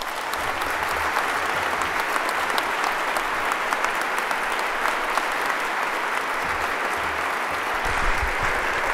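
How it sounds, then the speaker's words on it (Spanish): Steady, sustained applause from a ceremony audience at a Spanish ministry handover, dense and even throughout with no speech over it. "Y pido, por favor, el aplauso que él se merece."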